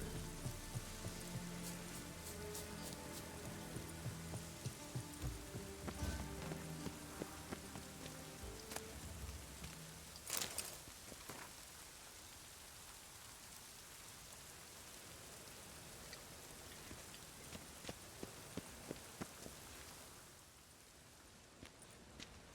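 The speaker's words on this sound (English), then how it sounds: "Rain makes the city even more dreary." Steady rain patters across hard surfaces in a city in the video game The Witcher 3, a dense hiss with scattered drips and occasional taps, continuing for the whole stretch at a moderate, even level.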